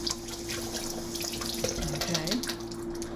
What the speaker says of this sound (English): I'm going to rinse out our 1/4 cup measure that we just used